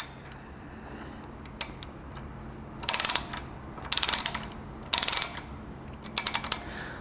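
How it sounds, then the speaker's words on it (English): A ratchet strap on a lorry load is cranked tight in four quick bursts of sharp clicking, close and clear over a quiet background, with no talking. "Once that's on, we're going to ratchet it tight."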